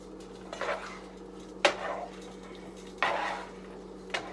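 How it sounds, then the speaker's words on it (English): A spoon stirs spaghetti sauce in a pot on a kitchen stove, making four separate scraping strokes against the metal over a steady low hum. "get that stirred in"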